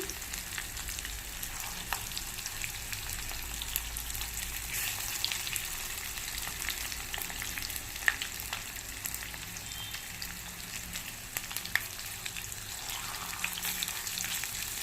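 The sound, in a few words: frying in a pan on a stove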